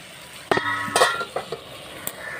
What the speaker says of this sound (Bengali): এই যে বিরিয়ানির মাংসটা আমি কষিয়ে নিচ্ছি, একদম লো ফ্লেমে কষাতে হবে